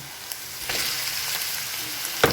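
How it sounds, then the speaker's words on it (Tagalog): Corned beef sizzles steadily in a pan with garlic for an omelette, a continuous frying hiss with a couple of brief clinks of stirring. "Ihulog nyo ngayon yung corned beef."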